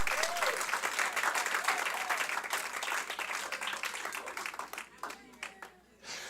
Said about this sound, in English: clap them better than that